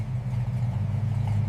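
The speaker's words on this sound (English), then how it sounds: "The muscle car slowly backs out of the garage." A restored muscle car, pulled from a collapsed garage after 35 years, rolls slowly backward with its engine giving a deep, even idling rumble. The rumble is close and steady throughout, and no one speaks.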